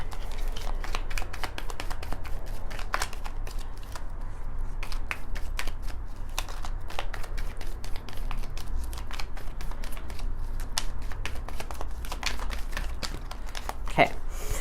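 Tarot cards handled and shuffled in a steady stream of crisp flicks and riffles, close and continuous, with a few louder snaps along the way and soft speech underneath.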